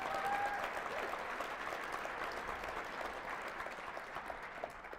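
Conference audience at a security event closing session applauding the game master, a sustained wash of clapping hands that slowly fades, moderately distant.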